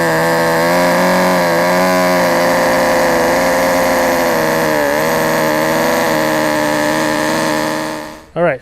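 A power tool whines loudly and steadily while trimming the rear bumper of a Lexus GX 470 for a high-clearance bumper install, its pitch dipping under load before cutting off abruptly near the end.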